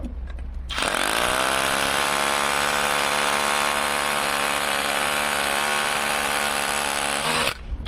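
A Ronix 8910K cordless brushless rotary hammer drills into concrete with an 8 mm bit, a loud, close, continuous hammering roar that starts after a second and stops abruptly at the end.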